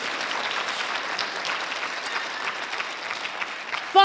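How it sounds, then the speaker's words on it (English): Audience at a university thesis competition final gives a round of applause, a sustained even wash of clapping from a large hall, with a brief louder burst at the end. "Give them a round of applause."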